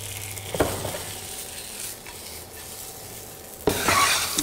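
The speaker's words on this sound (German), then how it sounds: "einfach schön mit ein bisschen Butter goldbraun rösten" Panko breadcrumbs toasting golden in a little butter in a pan, giving a steady soft sizzle with stirring scrapes and a louder burst of frying near the end, no voices.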